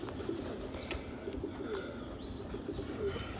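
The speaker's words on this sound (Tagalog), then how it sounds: "Ito pala yung kalapati natin" A pet pigeon coos softly in a quiet home setting, with repeated low, gentle coo phrases over faint background hum and a few small chirps.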